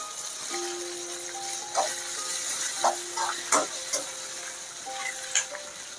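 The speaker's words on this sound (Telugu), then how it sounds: "ఇప్పుడు ఈ సాంబార్ ఆనియన్స్ వేసుకుంటున్నాను. ఆనియన్స్ వేసుకొని ఫ్రై చేయాలి." Sambar onions sizzle and fry in a pan for Kerala sambar, a steady soft crackle with occasional stirring clinks and scrapes over a constant tone, no talking.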